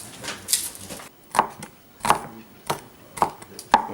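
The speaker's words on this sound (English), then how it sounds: "Cut off the top of the shallot, like that." A knife cutting a shallot on a cutting board, with about six sharp, close chopping knocks spaced at uneven intervals and no talking.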